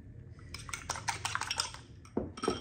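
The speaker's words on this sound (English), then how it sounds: "I'm gonna whip them up." Eggs whisked by hand in a bowl for a French omelette, giving a quick run of clinking, scraping strokes against the bowl at close range, with no voices.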